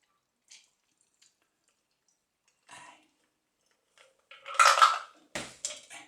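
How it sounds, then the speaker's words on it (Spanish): Noche de Amor cocktail strained through a bar strainer into a glass, heard as light clinks and a short burst of pouring liquid and ice knocking against metal, close by after a few quiet taps. "Vamos a filtrar. Venga, cogéis un colador."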